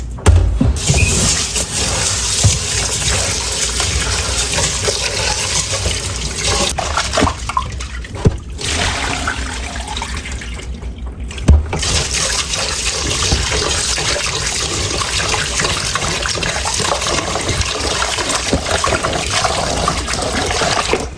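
Rice being washed under a steady stream of running water, a continuous loud rushing and splashing that lasts throughout with only brief dips.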